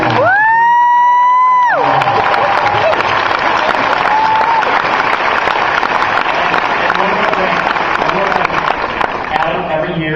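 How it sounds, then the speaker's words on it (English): A Comic-Con panel crowd applauds and cheers for the convention staff, opening with a loud sustained whoop or shout. Thunderous clapping, scattered yells and whistles follow and continue loud and dense for the full stretch. "I think we should give a round of applause for the Comic-Con staff"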